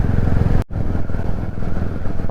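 A Royal Enfield Classic 350 motorcycle being ridden, its engine producing a steady close rumble with a brief dropout partway, continuous under wind noise.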